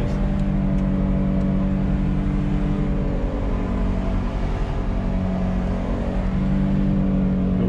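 Dodge Nitro engine held at high revs during a burnout, a loud, steady roaring drone that runs continuously and close by with no pauses and no talking over it.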